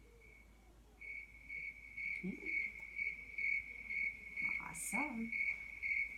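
A person imitates a cricket by rubbing their feet together, and a steady chirping trill repeats in regular pulses, quiet and close, with a brief spoken word partway through.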